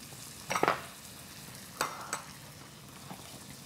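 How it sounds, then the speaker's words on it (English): Tomatoes stirred in a hot pan for a quick sauce: a few scraping, clattering stirs with soft sizzling underneath, close and alone with no talking. "So I'm just mixing the tomatoes."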